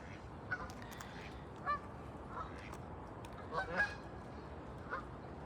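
Waterfowl in an English park honk in a few scattered, moderately distant calls over a steady outdoor background, with no talk.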